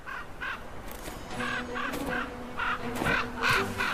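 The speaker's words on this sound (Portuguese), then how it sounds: "Os corvos defendem o seu alimento." Ravens defending a carcass in the wild give repeated harsh caws, about a dozen calls in an irregular series, fairly near and clear over a quiet outdoor background.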